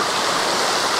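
Olginsky waterfall cascade in Abkhazia, a steady close roar of rushing water falling into a small pool and stream, dense and unbroken throughout.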